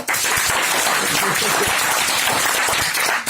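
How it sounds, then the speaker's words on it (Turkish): Dense, steady applause fills the whole stretch, loud and close, with a few sharper claps standing out and some voices mixed underneath. "kardeşime bir şey fakir alkışı"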